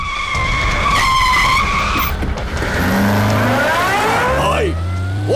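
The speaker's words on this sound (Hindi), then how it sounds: "गाड़ी रोको।" A car brakes hard and its tires skid loudly for several seconds, with engine roar and a rising siren-like whine in a busy movie action scene; no speech is heard.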